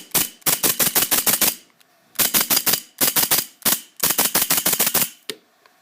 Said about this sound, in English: You can really do some really rapid fire, or you can do some nice slow shooting.